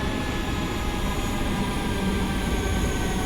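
A Class 314 electric train in Train Sim World 2 runs with traction motors powering while braking, giving a steady, loud, continuous rumble and hum with rail noise throughout.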